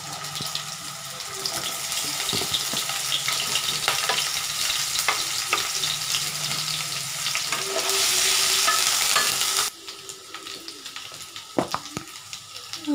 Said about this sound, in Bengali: তেল আমার গরম হয়ে গেছে, এই তেলে আমি আলুগুলো ভেজে নিব।